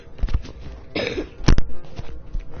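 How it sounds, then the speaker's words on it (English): A sick person coughs several times, loud and close, in rough, uneven bursts with short breaths between them and one harsher cough in the middle. "I'm sorry if you guys hear me coughing"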